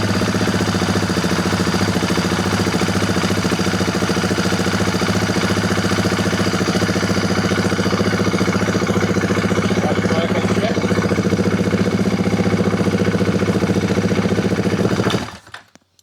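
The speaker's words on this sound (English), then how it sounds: "might just start this thing up and see if it actually starts" KTM 690 motorcycle engine in neutral fitted with an added cruise control unit, running loud and close with a steady, even idle drone that holds throughout and then cuts off abruptly at the end.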